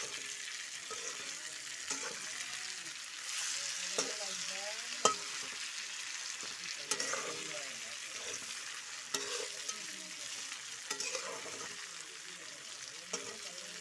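Sliced bitter gourd and spices sizzling in hot oil while being stirred in a pan, with a steady crackling fry and repeated scraping strokes of the spatula, close and moderately quiet.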